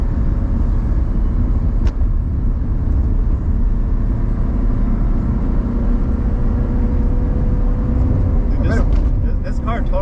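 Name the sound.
car engine idling and cruising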